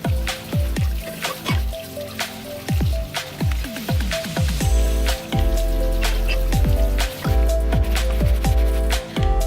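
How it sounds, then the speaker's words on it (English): A beat-up old pipe wrench, a Footprint wrench, is rinsed under a running hot tap, water splashing and trickling steadily with scattered drips and knocks against the sink, close and fairly loud. "we'll give it a rinse under the hot tap and see what's going on"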